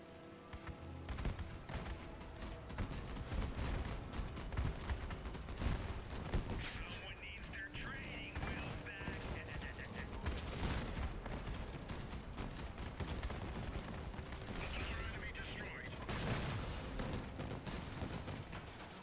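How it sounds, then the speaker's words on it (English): Grenades lobbed one after another in a video game, with repeated explosions and crackling gunfire rolling on steadily in a busy battle din, some talk mixed in underneath. "I'm just lobbing ton o grenade."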